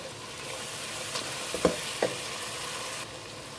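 Spice masala with fenugreek seeds frying in a pan, a steady low sizzle with a couple of brief sharper crackles near the middle, close and moderately quiet, no voices.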